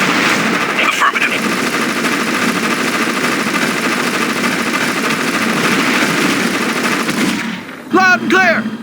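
Sustained toy-soldier battle gunfire in the Army Men RTS boot camp, a dense rattling barrage with engine-like rumble running for several seconds before a short radio-style voice cuts in at the end.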